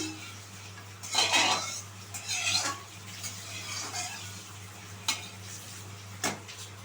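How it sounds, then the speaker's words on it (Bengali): Mustard oil is spread around a kadai wok with a metal utensil, producing scraping swishes and light clinks, with a few louder scrapes over a low hum. "তেলটা খুব ভালোভাবে আমি কড়ার গায়েতে আমি চালিয়ে নিচ্ছি।"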